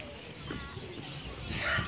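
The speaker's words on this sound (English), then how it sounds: "There's a cockerel going off in there." A rooster crows at a distance on a farm, rising briefly near the end over a steady outdoor background hum.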